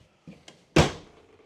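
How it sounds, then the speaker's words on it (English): A door in a 2025 Alliance Valor 44V14 toy hauler trailer with a 14-foot garage swings shut with one solid thud after a couple of light handling knocks, close and fairly loud, with no talk. "let me close the door"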